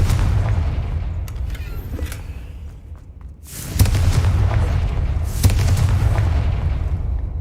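Confringo fire-spell blasts in Hogwarts Legacy, deep rumbling booms with sudden loud bursts near the middle and again later, heavy and close over a continuous low roar.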